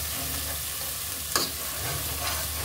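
Mashed turmeric-flower and ginger-flower bhorta with chopped coriander, onion, garlic and green chilli being sautéed in a pan, giving a steady close sizzle with a brief scrape of stirring.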